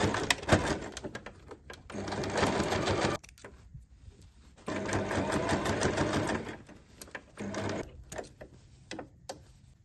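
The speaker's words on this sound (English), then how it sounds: "After you're done, sew the pinned area." A sewing machine stitches a pinned seam on bag fabric in close, loud bursts of rapid whirring, stopping and restarting several times with brief mechanical clicks between runs.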